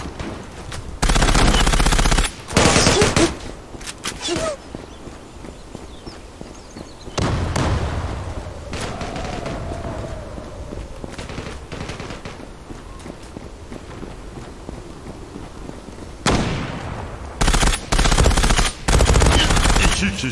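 Automatic gunfire in the online shooter Zula: several loud sustained bursts of rapid shots near the start, middle and end, with quieter footsteps and movement between them.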